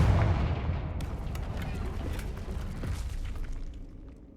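A Confringo blasting spell erupts in Hogwarts Legacy, a deep booming explosion that hits hard at the start and rumbles on, with sharp crackling debris bursts scattered through the fading tail.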